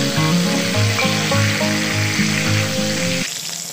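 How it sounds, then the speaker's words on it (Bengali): Pointed gourd slices frying in leftover oil after rohu fish, a steady close sizzle with a tonal hum running through it, cutting off sharply near the end. "মাছগুলো ভেজে তুলে নেওয়ার পরে কেটে রাখা পটল ওই তেলেই দিয়ে দিচ্ছি"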